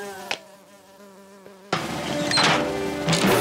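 A fly buzzes loudly and close, a sustained droning hum interrupted by a few clicks, then a brighter, noisier stretch of buzzing.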